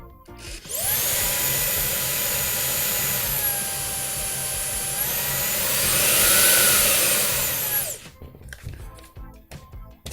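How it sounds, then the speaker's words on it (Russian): A Samsung Jet 70 cordless stick vacuum switches on and runs with a loud, steady whine for about seven seconds, its pitch rising briefly as the power is raised, then cuts off. "Когда вы включаете, у вас пылесос становится на среднюю мощность, и вы можете регулировать больше-меньше"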